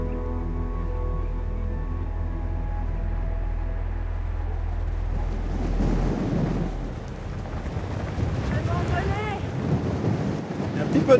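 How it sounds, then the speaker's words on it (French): Wind buffeting a microphone high on a mountain ski slope, a steady low rumble that grows into louder, gustier roaring in the second half, with no other clear sounds. "Un peu de vent en haut, hein."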